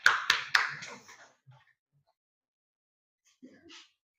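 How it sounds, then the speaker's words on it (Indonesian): Classroom claps for group 2 in an Indonesian lesson, just three sharp, close claps in quick succession, then near silence with a faint murmur at the end. "Tepuk tangan dulu untuk kelompok 2."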